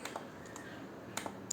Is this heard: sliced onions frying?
no